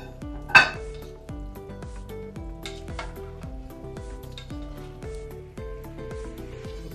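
Beef masaledar biryani scooped out of the cooking pot onto a dish, with a steady repeating rhythm of soft metallic scraping and clinks of a spoon against the pot, one sharper clank near the start, close and without speech, over a faint musical background.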